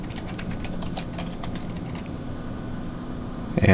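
Fingers tapping out a password on a computer keyboard, a quick run of light, close key clicks over a steady room hum, with a louder knock at the very end.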